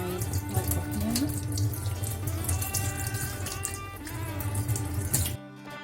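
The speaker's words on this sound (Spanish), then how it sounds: "Ahora los vamos a lavar con un poco de agua por fuera." Tap water runs steadily into a sink while tamale ingredients are rinsed, a loud continuous splashing flow that cuts off abruptly near the end.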